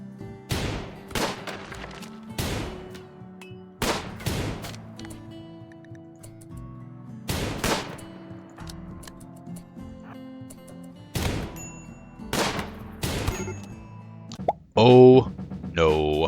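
Sharp, separate gunshots in the colony-management game Rimworld, fired against a lone axe-wielding raider, come in an irregular series of about eight cracks with short gaps between them, and a brief burst of other game noise closes the sequence.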